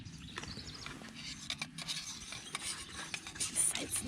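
A spoon scrapes and stirs through oatmeal and coffee in a small pot at a trailside camp breakfast, a close, continuous scraping rustle with light metallic clinks.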